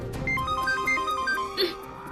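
A mobile phone ringtone plays a short, bright repeating melodic pattern, clear and close, lasting the full two seconds.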